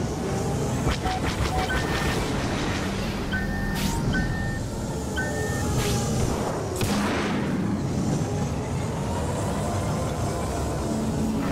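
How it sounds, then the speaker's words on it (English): Missile launch and explosion in Star Wars Battlefront, a sustained loud roar of blasts and booms with whooshing bursts over continuous battle din, no talking. "Look out, missile launch!"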